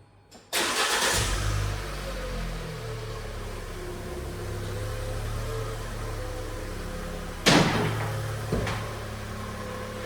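A damaged Fiat 500 starts up and idles steadily while being moved onto a ramp, with a second sharp mechanical burst near the end, loud and close throughout.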